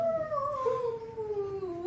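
A voice imitates a Lagahoo werewolf howl, one long wavering howl that slowly falls in pitch over about two seconds, close and fairly loud.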